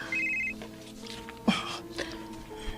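A telephone rings with an incoming call in a Bisaya radio drama: a brief electronic ring opens, followed by a few softer knocks and clicks at moderate volume.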